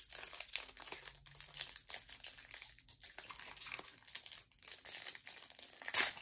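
Crinkly plastic wrapper of a Pokémon Shining Fates booster pack being torn and crumpled open, steady close rustling and crackling for several seconds with no talking.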